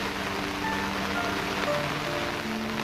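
Steady monsoon rain falls over a hilly village, a continuous broadband hiss of drops on surfaces with faint tonal background hum, holding even and fairly close throughout.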